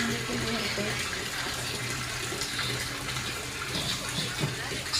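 Rainwater pours from roof eaves after heavy rain, making a continuous splashing rush at moderate level with no break across the stretch. Faint voices sit in the background.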